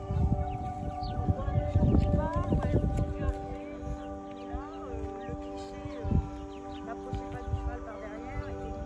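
Horses moving around a horse estate in a rural setting, with scattered hoof clip-clops mixed with clucking fowl and bird calls, while people talk over much of it.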